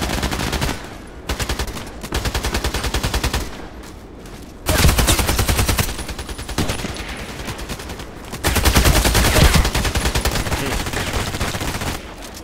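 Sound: gunshots in video game Contract Wars

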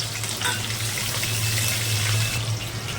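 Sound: green and red chilies and whole garam masala sizzling in cumin-tempered oil

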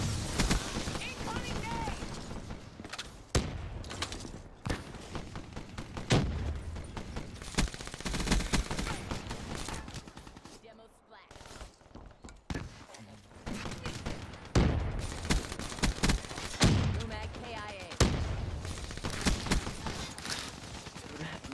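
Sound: shotgun fire in the video game Call of Duty Black Ops 3

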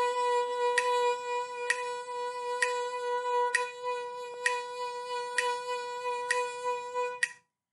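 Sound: violin vibrato exercise in triplets

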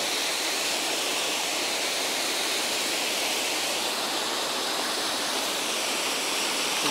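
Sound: waterfall

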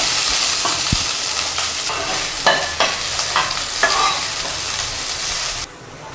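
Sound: chopped okra (bhindi) frying in a pan

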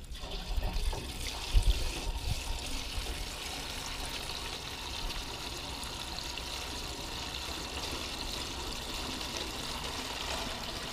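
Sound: pouring liquid into a 25-litre canister

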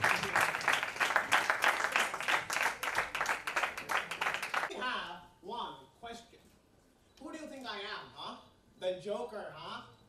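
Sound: audience applause welcoming a judge

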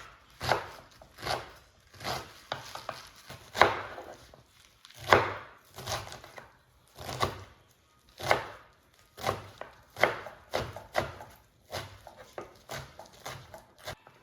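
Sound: chopping mustard greens and spinach for saag

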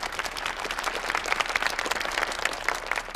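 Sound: audience applause at a gala

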